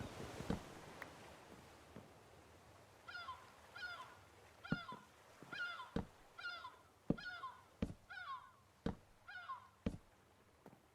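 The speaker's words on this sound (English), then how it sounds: "I like how one seagull's just going at it in the background." Repeated honking, squawking bird calls, likely a seagull, sound off and on in the background at a steady rhythm. About ten sharp, moderately loud cries are separated by short pauses.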